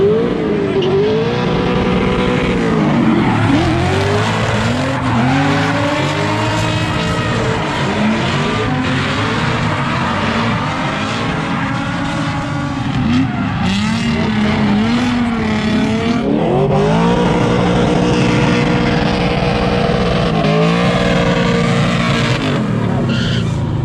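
A 470hp BMW kart drifts hard, its engine roaring loudly and continuously while the tires squeal and screech through long slides, rising and falling pitch with throttle, close and dominant throughout.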